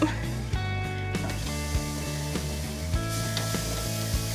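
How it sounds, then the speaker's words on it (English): Pork chops sizzling on a grill after a flip, a steady hiss broken by several evenly spaced sharp taps and scrapes. "these pork chops have been on for about 5 minutes, so we're gonna give them a flip"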